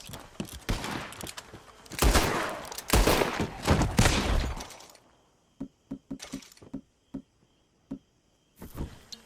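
Gatling gun fire in the Western game Red Dead Redemption 2, a loud dense fusillade of rapid shots for several seconds, then sparse single sharp cracks spaced apart with near silence between them.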